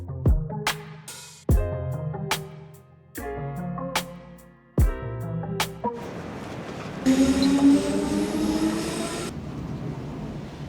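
A train at a station in Zurich, Switzerland, with a series of sharp metallic clunks and rattles from the cars, then a rushing, rumbling roar as the train passes close by before it fades.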